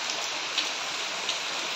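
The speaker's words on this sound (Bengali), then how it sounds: "আস্তে না আস্তে বাইরেও দেখি বৃষ্টি স্টার্ট হয়ে গেছে।" Rain falls outside in Bolpur as a constant, even hiss of drops with no pauses, moderately loud and steady from start to finish, with no voices.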